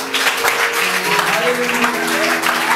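Church congregation clapping and applauding together at a worship service, loud and continuous, with voices and music-like tones mixed in underneath.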